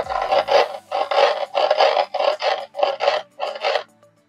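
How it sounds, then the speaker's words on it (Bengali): Cumin seeds, coriander seeds and two dried red chillies lightly crushed by hand, a run of about eight short gritty grinding strokes in a steady rhythm, close and clear with no talk. "জিরে, ধনে আর দুটো শুকনো লঙ্কা আমি আলতো করে গুঁড়ো করে নেব, পুরো গুঁড়ো করব না।"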